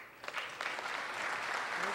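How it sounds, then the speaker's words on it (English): Quiet applause builds at a chamber of commerce gala dinner, many hands clapping softly at a distance in a large room, swelling after a brief start. "Let's give Bill a great round of applause."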